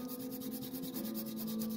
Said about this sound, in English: you can hear that scraping of my pulling back. I'm sanding down the paper there.